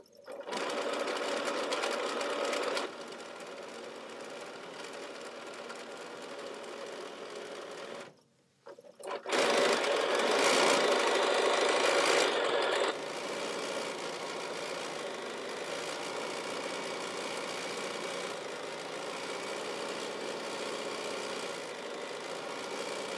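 A sewing machine runs at a steady, fast mechanical whir close by, pausing briefly partway through before starting up again louder, then settling into a continuous drone.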